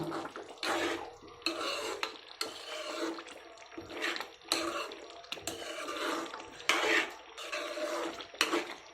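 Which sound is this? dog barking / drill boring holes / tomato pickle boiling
tomato pickle boiling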